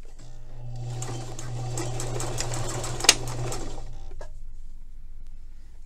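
A sewing machine runs in a steady, close whirring burst for about four seconds as it stitches the shortened sleeve of a woman's top, then stops, leaving quiet.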